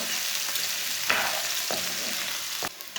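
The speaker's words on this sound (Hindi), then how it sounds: "लहसुन और प्याज को हल्का सा ब्राउन कर लेंगे। ऐसे ही चम्मच चलाते हुए ब्राउन करना।" Garlic and onion frying in a pan while being stirred with a spoon, a continuous moderate sizzle broken by a few distinct scrapes and clanks of the spoon.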